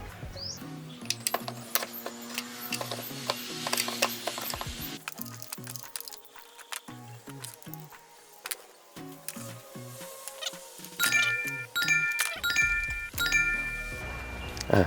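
A ratchet with a 10 mm socket loosens ignition coils on a Toyota Vios or Yaris engine, giving close bursts of quick metallic clicks with occasional light clinks of parts.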